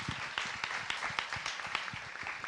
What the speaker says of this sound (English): I think we can give a great applause to that